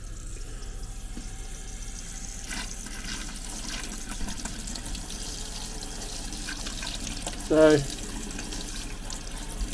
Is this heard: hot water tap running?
yes